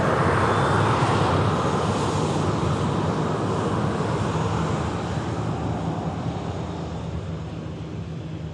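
An airplane on the flight to Punta Cana, a loud, steady broadband roar of jet engines and rushing air that holds continuously and eases slightly toward the end, with no talk.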